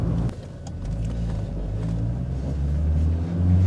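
A Pontiac Fiero sports car's engine runs with a steady, close, deep rumble that swells slightly toward the end, with no talking over it.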